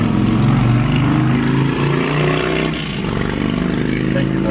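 A motorcycle engine rumbles outside, a steady loud drone with some varying tone that holds across the whole stretch without fading away.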